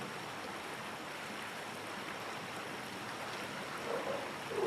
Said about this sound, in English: Listen for the key tones in the rushing waters.